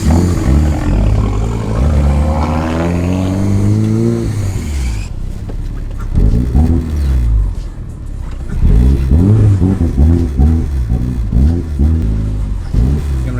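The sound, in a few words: turbocharged Saturn Ion Redline LSJ engine driving and revving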